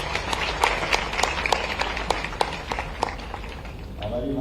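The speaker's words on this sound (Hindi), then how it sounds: "ताली वाली बजा दो दोनों के लिए।" Audience of students and officials at a science outreach event in Bhopal clapping for two students, a dense crowd patter with distinct sharp claps, fading toward the end as a voice begins.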